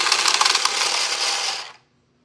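A Taie Hyung automatic card shuffler shuffling two decks gives a dense, close rapid riffle of cards for about a second and a half, then stops abruptly into silence.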